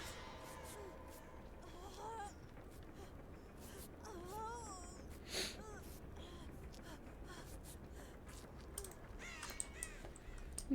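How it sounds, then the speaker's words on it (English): Crows caw in Dead by Daylight, faint calls scattered among game ambience and shuffling sounds, with a louder burst near the middle. "I'm just over here scaring crows"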